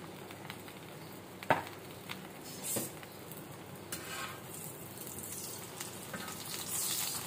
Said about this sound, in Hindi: तो यहाँ बना लेते हैं स्लाइस, तल लेते हैं इसको